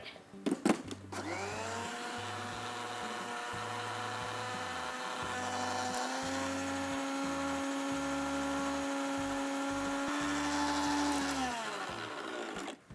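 A mixer grinder blending cold coffee with vanilla ice cream whirs steadily for several seconds, a loud continuous motor drone that starts abruptly and cuts off at the end, with no voices.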